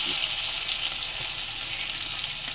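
Onion, green chilli and bay leaf tempering sizzle steadily in hot oil after eggs have been fried, a dense continuous frying hiss close by with no talking.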